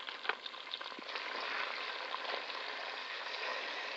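Melted base being stirred together with beaten egg in a pan over heat, a soft continuous sizzle with light scraping and stirring, fairly close and quiet, no talking.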